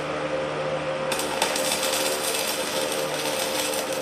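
Welding a rear caster wheel back on, a steady harsh crackling buzz that runs the whole time with a brief sharp pop near the start, loud and close.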